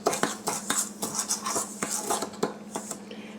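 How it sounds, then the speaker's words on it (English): A spoon stirs dry chocolate cake ingredients in a bowl, producing rapid repeated scraping and clinking strokes against the bowl, close and steady with no speech. "I'm just using a spoon and just kind of stirring it together."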